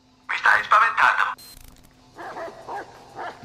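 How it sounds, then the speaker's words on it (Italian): Dogs bark in a short burst of loud yips during Watch Dogs 2 gameplay, followed by someone talking over fainter background game sound. "Dai, zitto cane, zitto cane."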